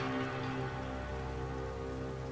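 Rain falls during a battle in the video game Medieval Total War, a steady, even patter over a low constant hum, with no voices.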